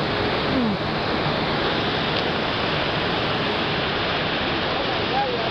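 The Salto de Apa waterfall in Chaparral, Tolima roars steadily, a dense rushing wash of falling water that fills the scene loudly and evenly throughout.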